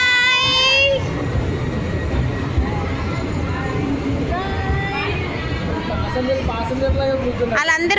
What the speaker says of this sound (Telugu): సర్కస్ ట్రైన్ ఎక్కాడు.